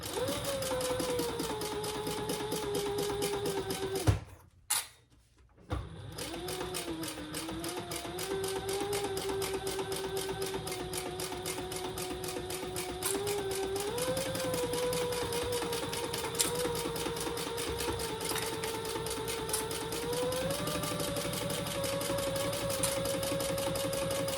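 A sewing machine with a walking foot bastes around the edge of a vinyl bag, running steadily and close with a constant mechanical whir; it pauses briefly near the start, then resumes, its pitch shifting slightly as the speed changes.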